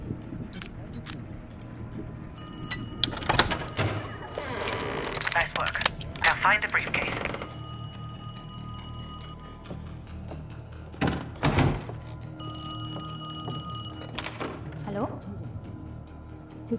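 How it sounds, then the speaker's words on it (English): A telephone rings in a Berlin apartment in Call of Duty: Black Ops Cold War, with two bursts of electronic ringing, scattered thuds and clatter, and people speaking. "I'm about to phone Kraus's apartment"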